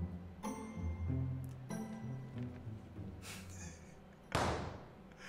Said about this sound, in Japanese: なんか爆発音したぞ